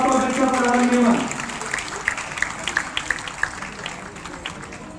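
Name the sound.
applause at a university convocation ceremony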